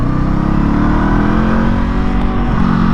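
A 2025 Honda Scrambler SCL500 motorcycle accelerates with a loud, steady engine roar whose pitch climbs through the revs, heard close up from the rider's position, with no voices.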